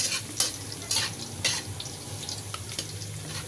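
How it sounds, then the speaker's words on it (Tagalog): Chopped garlic sautés in a pan toward golden brown, giving a soft, continuous sizzle with a few louder scrapes and stirring clatters close by. "Isuti lang natin to guys hanggang maging golden brown"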